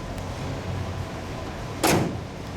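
The hood of a 1965 Buick Skylark Gran Sport shutting, a single brief thud over low background noise.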